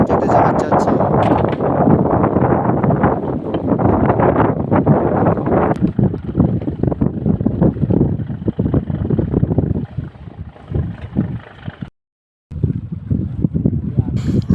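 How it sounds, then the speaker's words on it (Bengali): A ship passes on the Hugli river beside a small fishing boat: a steady, broad engine rumble and rushing water are heavily mixed with wind buffeting the microphone, then fade to quieter churning before a brief dropout. "আমাদের সাইড থেকে জাহাজ যাচ্ছে।"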